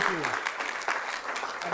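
An audience at a regular city council meeting claps in a sustained burst, while a voice talks over the applause throughout.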